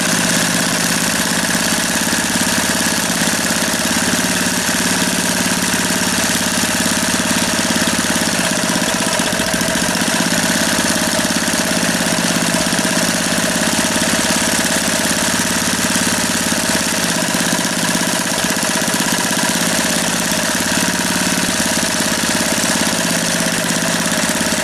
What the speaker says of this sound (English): I've had a bit of luck with this engine actually.